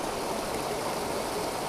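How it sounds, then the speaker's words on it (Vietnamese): A rain-swollen stream flows steadily, a dense, continuous rush of water close by with no other sounds. "nay nước mưa nhiều chảy đẹp quá quý vị ơi. Suối chảy lý tách lý tách."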